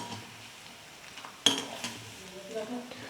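Cashews roasting golden in a pan on the stove for ven pongal, with a steady soft sizzle and one sharp clink of a spoon on metal partway through, followed by scraping stirs.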